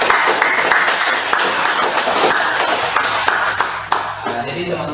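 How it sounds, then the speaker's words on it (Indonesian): Audience of students and teachers at a university teaching session claps for student work, a dense burst of applause lasting several seconds before tapering off near the end. "Jadi kita beri aplaus untuk."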